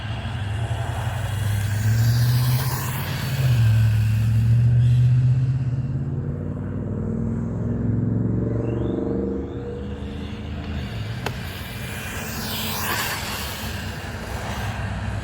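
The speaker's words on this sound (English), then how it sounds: "I will say that about this rig, about this car, this Aurario Rally. It holds the ground." A Rlaarlo rally RC car drives nearby, its motor whining and rising in pitch as it accelerates and passes, with a low rumble and varying engine tone across the run and no talk.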